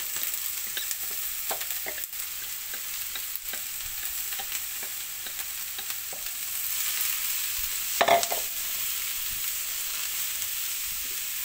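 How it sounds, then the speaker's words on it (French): Leeks and onions sauté in a pan over medium heat for leek muffins, a soft continuous sizzle with repeated close stirring scrapes and one louder clatter near the end, no talking. "je vais laisser revenir mes poireaux pendant 10 à 15 minutes environ"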